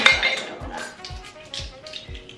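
Oat milk being whisked with a tablespoon of fresh maple syrup in a kitchen: rhythmic clinking strokes of a whisk against a bowl, repeating roughly every half second at close range with no talk over them.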